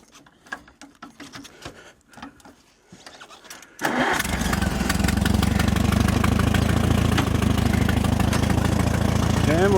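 A tractor engine cranks and catches after a few seconds of quiet rustling, then settles into a loud, steady, close running rumble that continues to the end.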